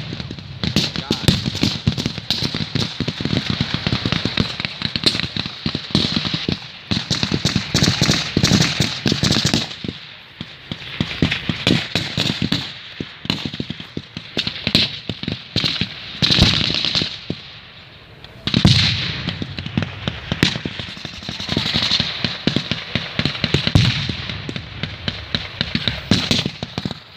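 Rifle gunfire at a battle reenactment at Midway Village, with crackling volleys and scattered shots continuing throughout, mid-distance and loud, while people talk nearby.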